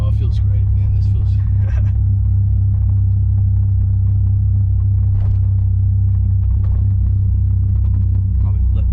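A Dodge Viper with a T56 manual gearbox and a newly replaced hydraulic slave cylinder, its engine idling close by as a deep, steady rumble with faint clicks above it.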